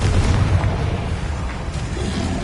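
A Confringo spell explodes in Hogwarts Legacy, a loud, sustained booming blast that fills the clip with dense rumbling energy and no clear break.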